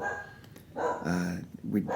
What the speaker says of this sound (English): And there's my dog chiming in.